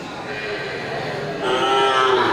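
Simmental-Limousin crossbred fattening bull lowing in a cattle market, a sustained moo that swells louder partway through, heard close with faint background noise.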